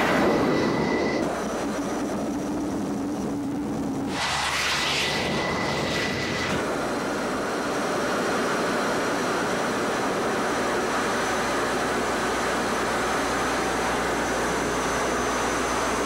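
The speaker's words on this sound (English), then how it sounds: "The lead aircraft will be flying ACLS tonight." A Navy F-14 Tomcat jet flies at night over a Southern California naval missile range, its engines roaring loud and unbroken throughout, with a shifting tone in the first few seconds and no voices.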